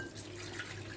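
Water runs and splashes faintly into a vessel as two cups are poured for Maggi noodles, a short steady trickle.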